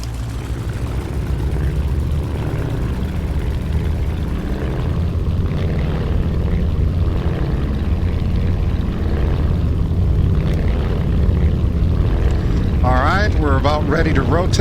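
Propeller engine of an F4U Corsair roaring steadily through a takeoff run in the AeroFly FS2 flight simulator, a loud continuous drone throughout with a voice talking over it near the end.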